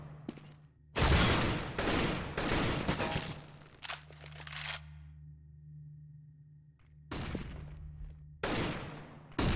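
Gunfire bursts in a CS:GO competitive match, including sniper rifle shots: sharp loud cracks in clustered volleys, a quiet stretch with a low hum in between, then more shots near the end.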